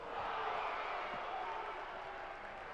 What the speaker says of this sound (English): every time we're in the state of Washington, the crowds get louder and louder